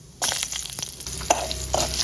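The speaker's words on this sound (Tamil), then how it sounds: "இப்போ இதுலேயே இஞ்சியை போட்டு வதக்கிங்கோ." Ginger sautés in sesame oil in a pan for pirandai thogayal. It gives a close, steady sizzle broken by scraping stirs and a few sharp spoon knocks, with no talk.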